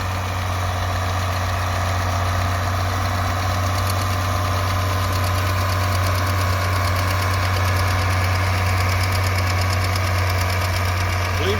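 A John Deere 5020 tractor pulls a plow across a field in the Palouse, its engine a steady, unbroken low drone that holds at an even level from start to finish.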